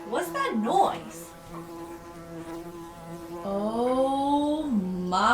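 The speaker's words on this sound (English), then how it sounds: "there's a bee." A bee buzzes nearby in a droning hum that swoops up and down in pitch, fading briefly and then returning louder.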